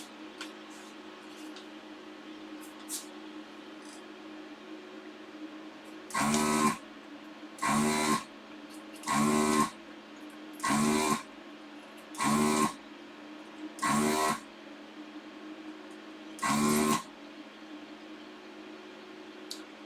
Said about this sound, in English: It's plugging up again. You can hear it from the sound of the machine.